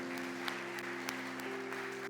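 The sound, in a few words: congregation applause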